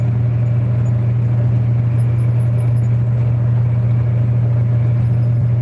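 A semi truck with unbaffled mufflers idles loudly and up close, a steady deep droning rumble that holds without a break.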